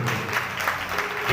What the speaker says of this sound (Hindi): सब ताली लगाएंगे इस वचन के लिए।